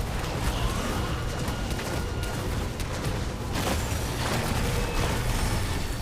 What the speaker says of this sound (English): accidentally used corpse explosion there, I didn't mean to.